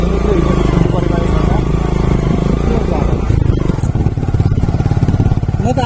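A motorcycle rides a rough, dangerous off-road mountain road in Bhojpur, Nepal, its engine loud and close with clattering and scraping from the rough ground, under people talking.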